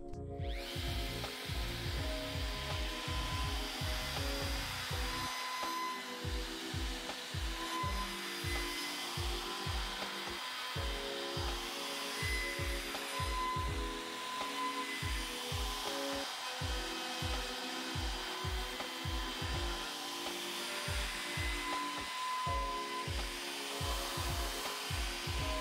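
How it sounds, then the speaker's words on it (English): Router on a SpeTool Cratos S01001 router sled flattening a wood slab, a continuous loud whine with rapid rhythmic cutting pulses as the sled slides in repeated passes, pausing briefly midway. "then slide the sled across the table a little bit and repeat"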